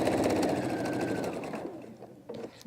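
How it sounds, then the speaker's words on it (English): A sewing machine stitches quilt pieces in a fast, steady run of needle strokes that slows and stops partway through, leaving faint handling noises. "I'm just going to stitch away"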